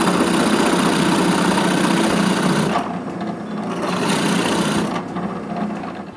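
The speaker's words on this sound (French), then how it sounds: "Puis je perce 2 trous de chaque côté du couteau qui sont plus profonds que l'épaisseur de la tête de la vis." A drill bores holes into a wooden dowel for a homemade tarabiscot, a steady loud whirring grind that halts briefly partway through and then starts again.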